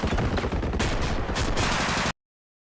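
Gunfire in an F1 2013 career mode livestream, with bullets hitting a steel structure: a dense, loud, continuous burst of rapid shots and metallic impacts that stops abruptly.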